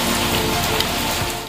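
Heavy monsoon rain pours down in Rahim Yar Khan, Liaquatpur and Sadiqabad, a loud, dense, continuous hiss of drops hitting surfaces with no break, and no one speaking.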